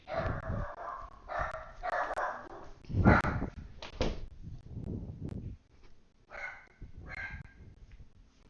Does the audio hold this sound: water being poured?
no